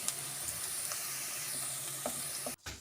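Onions fry, sizzling and crackling steadily in a hot pan, a dense bright hiss with small pops, which cuts off abruptly near the end.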